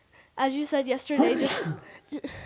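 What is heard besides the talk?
sneeze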